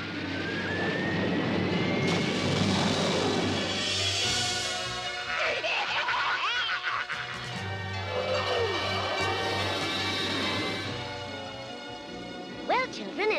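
A cartoon bus jet in flight, starting to lose power, gives a steady, loud jet-engine roar with a rising whine, under busy animated-show effects and voices.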